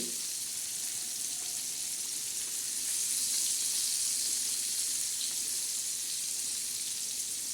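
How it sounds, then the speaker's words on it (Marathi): Pomfret fish coated in semolina, red chilli, turmeric and salt fries in oil with a constant, fairly loud hiss and sizzle, close and steady throughout, with no talking. "आज पापलेट मासा आपण तळणार आहोत"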